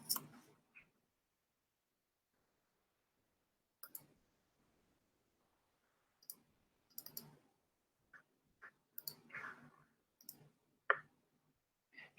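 A computer mouse clicks in sparse, faint single and double taps spread over a quiet stretch, with long silences between them.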